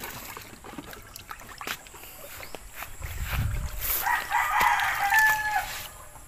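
A rooster crows loudly nearby in the second half, following scattered clatter and splashing sounds at the start as chickens are bathed with buckets of water.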